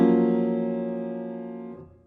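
A single piano cluster chord with the major seventh voiced in the root rings out and fades gradually for about two seconds before being released, heard alone without any voices.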